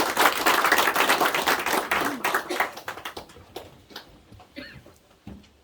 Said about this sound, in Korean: 감사하게 박수를 올리겠습니다